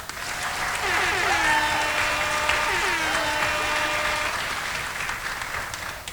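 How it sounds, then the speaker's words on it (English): Guests applaud at a charity gala, a steady wash of clapping that runs evenly throughout the clip, with faint voices mixed into the crowd noise. "Please give her applause."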